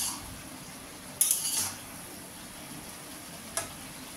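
A lid comes off a pot of boiled vegetables with one short metallic clatter, then a faint clink a couple of seconds later against a low, steady kitchen hiss.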